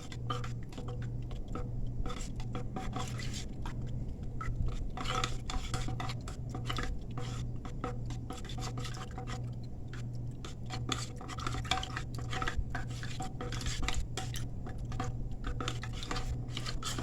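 Continuous stirring of a natural insect repellent mixture of oil, water and lauryl in a container, with rapid clinking and scraping of a utensil against the sides over a steady low hum, close and without talk.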